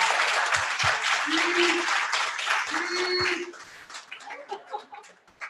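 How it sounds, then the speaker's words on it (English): A small group at a student senate meeting applauds an award-winning student, moderate clapping mixed with brief tonal sounds, tapering off near the end as a voice begins. "So if you could just give a round of applause"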